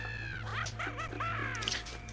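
Harsh, repeated squawking calls from a bird in the video game Star Fox Adventures, several close and loud cries in quick succession over a steady low background hum.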